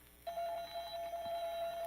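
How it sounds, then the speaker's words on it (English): A timer alarm bell aboard a spacecraft starts ringing after a brief pause, holding one steady, continuous tone at moderate volume with no voices over it. "Listen, the alarm bell on the timer's ringing."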